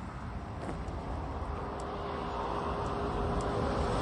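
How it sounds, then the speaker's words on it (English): A convertible car running, a steady low engine and road rumble that stays even and slightly builds over a few seconds. "Convertible."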